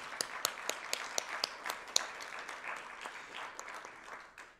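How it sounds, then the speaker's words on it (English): Audience applause at a business market event, a light, moderately distant patter of many hands with a few sharper individual claps, tapering off toward the end. "Let's give ourselves a round of applause for that."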